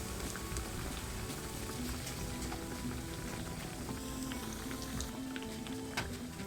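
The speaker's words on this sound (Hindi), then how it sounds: "तो पहले 3 से 4 मिनट तक हम एक ही साइड से इसको फ्राई होने देंगे।" An aloo besan naan frying in hot oil: steady, dense sizzling and fine bubbling crackle, even and continuous at moderate level, with no voices.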